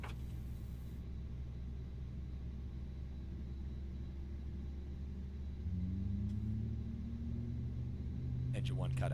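Engines of an Airbus A320 spooling up in Microsoft Flight Simulator 2020, a steady low rumble that rises in pitch and loudness partway through as the whine climbs, with no talking.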